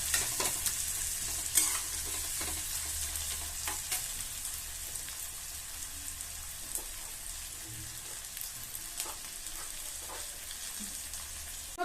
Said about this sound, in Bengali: পেঁয়াজটা দেখো ভাজা হয়ে এসছে এর মধ্যে এবার আমি কাঁচা লঙ্কা দেবো কাঁচা লঙ্কা দিয়ে নেড়ে নেব